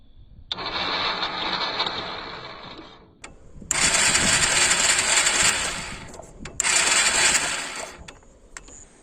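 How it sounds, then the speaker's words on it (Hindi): An old used motorcycle's electric starter cranks in three bursts with brief pauses between, the engine whirring loudly near the listener without clearly catching. "मैं अभी आपको सेल्फ लगा के दिखाता हूँ।"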